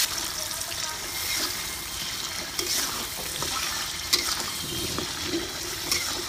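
Rice vermicelli noodles sizzle and crackle in a pan for a Lombok-style dish, close and continuous, with occasional clinks of stirring.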